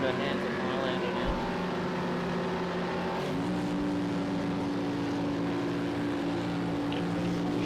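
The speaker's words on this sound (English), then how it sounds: "Be able to hear the Highlander's engine when he guns it and goes" Race car engine from an online racing game, Route 66 to Daytona 500 league, droning steadily then rising in pitch as it accelerates hard, heard under commentators talking.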